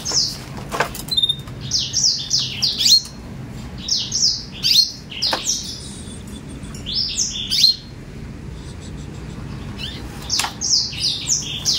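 Small imported canaries squawking and chirping as they fight, in repeated bursts of sharp, high calls with brief pauses between them, close by over faint background noise and without speech.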